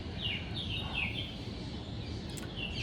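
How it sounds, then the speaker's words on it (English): Birds chirp on a Delhi rooftop, a few short tweets repeating over a steady broadband background hum, fairly distant and moderate in level, with no talking. "You can hear the birds chirping."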